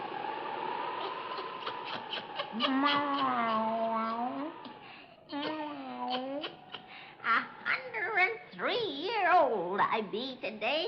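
Satan, a black cat in a 1938 witch's radio tale, meows in a run of wavering, rising and falling cries, fairly close and loud, with more drawn-out yowls toward the end.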